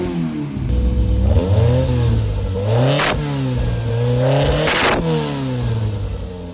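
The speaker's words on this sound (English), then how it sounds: "so we'll do the inside revs." A 1985 Toyota MR2 with a 4-cylinder, 20-valve engine revs up and down in three rising and falling sweeps with a sharp throttle blip between them. The engine is loud and close, with no talk.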